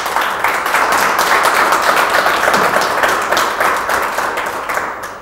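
A studio audience at a singing show bursts into sustained applause, dense, even clapping that stays loud and then tapers off slightly at the end.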